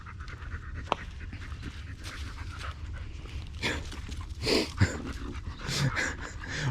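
An excited dog pants rapidly and steadily on a walk in the woods, close by, with a few faint whimpers and rustling footsteps mixed in.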